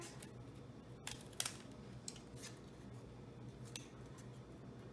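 Scissors trimming the back wheels of a homemade rubber band racecar, a few faint snips and small clicks spaced over a quiet room background.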